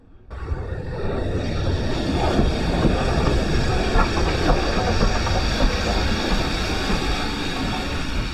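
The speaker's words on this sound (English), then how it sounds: "I'm not sure if this is our train coming" A steam-era train approaching a heritage railway station, a steady broadband rumble with hiss and rail clatter building in from the start and holding loud and close throughout.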